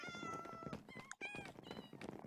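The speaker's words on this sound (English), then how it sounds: "where's all that meowing coming from?" Several cats meow in a Minecraft game, a run of high, drawn-out meows overlapping and repeating close up, loud and continuous with a brief gap midway.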